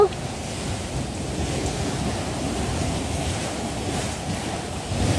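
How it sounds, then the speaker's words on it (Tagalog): Strong ocean waves roll in on a beach in Bataan during a typhoon, heard as a constant low roar of surf mixed with buffeting wind against the microphone, steady and fairly loud throughout. "Ang lakas ng alo, no?"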